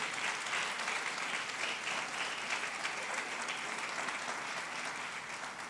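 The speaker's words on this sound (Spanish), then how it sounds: "Dale ese aplauso al Rey de Reyes." A church congregation applauds during a sermon, a dense, sustained clapping that fills the room evenly and at steady strength throughout, only easing slightly at the very end.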